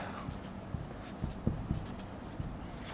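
Pen writing an address on paper, a steady scratchy scrawl with a few sharper taps of the pen tip, close and fairly quiet, with no talk.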